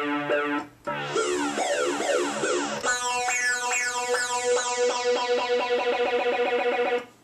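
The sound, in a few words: XS synthesizer with sawtooth LFO modulation, repetitive pattern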